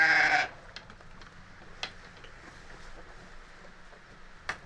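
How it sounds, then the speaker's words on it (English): Sheep bleat in a farm pen on a campus during lambing season, with one loud, close bleat at the start followed by scattered fainter, more distant calls from ewes and lambs over a quiet outdoor background. "Here are sheep on campus, and it's just been birthing season, so they have many lambs."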